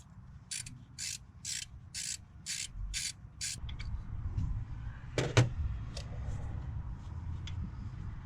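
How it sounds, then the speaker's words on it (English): A ratchet backs out the single 10mm screw on the oil filter canister of a 1988 BMW 535is with M30 engine, giving a quick run of evenly spaced close clicks, then scraping and a sharp knock, no talk. "we can move on to the oil filter canister and begin removing our 1 10mm screw"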